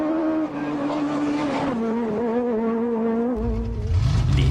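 A Peugeot 306 Maxi rally car engine, 275 horsepower at 8000 rpm, revs high and climbs in pitch as it accelerates, loud and close, with a gear change and surging roar near the end.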